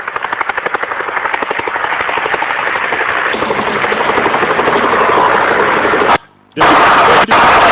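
A helicopter's rotor chops in a fast, loud, rhythmic thudding over an engine roar, briefly dropping out before resuming.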